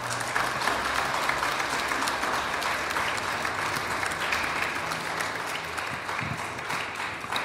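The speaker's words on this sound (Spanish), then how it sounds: "vamos a darle un fuerte aplauso" Guests at a quinceañera party clap in loud, dense, continuous applause that carries on steadily for several seconds, with a few sharper claps standing out near the end.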